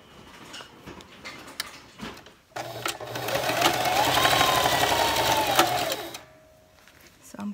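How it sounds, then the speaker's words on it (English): A sewing machine runs steadily for several seconds, close and moderately loud, stitching through several layers of fabric for a 3D face mask, with quieter handling sounds before and after. "So in this pattern, we will sew here and here."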